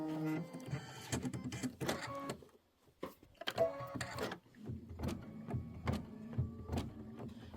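A Kimberbell embroidery sewing machine stitches a decorative stitch on a mini quilt, giving a steady mechanical whirring with rhythmic clacking pulses. There is one short pause, then the stitching carries on up close.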